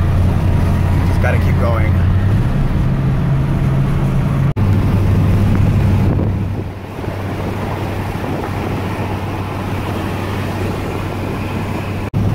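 A Ford F150 pickup engine drones and strains while climbing a hill, a steady low hum heard from the cab beneath heavy wind and road noise, with someone speaking briefly over it.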